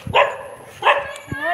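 A dog gives two short, sharp barks about a second apart, close and fairly loud, with a faint background and a brief low knock near the end.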